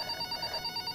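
Phone ringing in the video game Five Nights at Wario's Deluxe, a steady electronic ring with a pulsing rhythm that continues through the whole short moment, alone with no talk.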